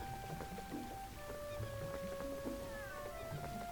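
A cat meows in the video game Zelda Twilight Princess HD, a drawn-out tonal call over game background ambience with soft rhythmic sounds beneath, the cat fairly clear and close.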